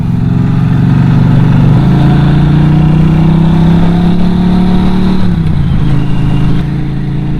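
A Norton Commando 961 SP motorcycle engine drones loudly and steadily while riding, with a shift in pitch partway through and a gear change near the end, and no talking.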